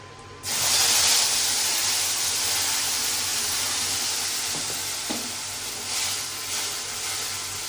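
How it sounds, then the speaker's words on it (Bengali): Cardamom, cloves and whole cumin dropped into hot oil burst into a loud, close hiss that stays strong and slowly eases off, with a couple of faint clinks partway through. "এলাচ, লবঙ্গ আর গোটা জিরে, তেলের মধ্যে দিয়ে দিচ্ছি"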